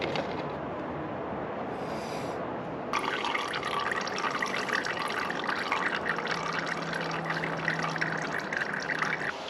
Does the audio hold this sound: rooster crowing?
no